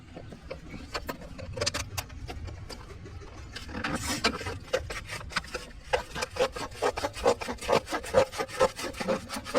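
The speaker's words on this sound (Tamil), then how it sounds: "இப்ப நம்ம அந்த உண்டியில ஓபன் பண்ண போறோம்." A knife cuts open a piggy bank with close, rhythmic scraping and sawing strokes that grow quicker and sharper toward the end, with no talking.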